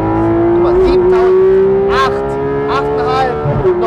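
Porsche 991.2 GT3 RS flat-six revving hard and climbing steadily under full acceleration, a loud rising engine note heard from inside the car, with brief tire noise and people talking over it.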